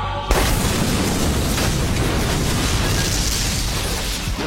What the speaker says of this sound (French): Alors elle était imminente, l'explosion